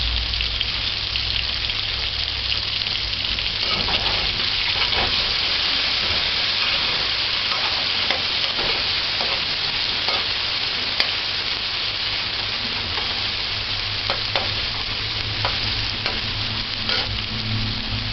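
Fish stir-fries with cabbage and garlic in a pan, giving a continuous loud sizzle with scattered crackles and occasional scraping stirs, close up and without talk.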